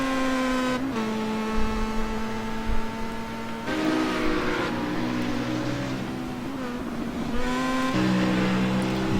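Race cars, including Star Mazdas and a BMW, run the Road America endurance race, with steady high engine drones that shift pitch as cars pass and accelerate, overlapping continuously at moderate distance.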